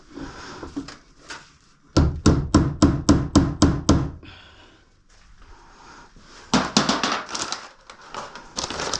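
A small nail is driven with a hammer to hang bandsaw blades for a blue bandsaw: a quick run of about ten sharp, evenly spaced close blows, then a pause and a second, busier burst of knocking and handling.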